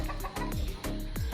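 Chickens cluck in short, repeated bursts near a cage at feeding time, a busy close flock calling alone without talk.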